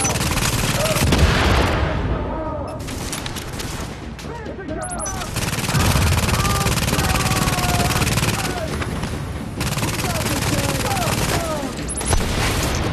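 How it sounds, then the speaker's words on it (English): A mounted turret in The Division blasts sustained bursts of automatic gunfire, loud and close, in long rattling volleys broken by short pauses, with voices talking over the shooting. "you have the mounted turret"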